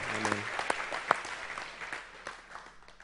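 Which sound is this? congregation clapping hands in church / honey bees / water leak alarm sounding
congregation clapping hands in church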